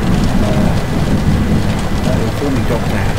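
Heavy rain pours steadily in a video game thunderstorm, with low rumbling thunder rolling underneath throughout; the dense downpour is loud and continuous with no pauses.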